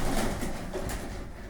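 Low cooing from pigeons in Rza's loft, a close, continuous throaty burble with no talking.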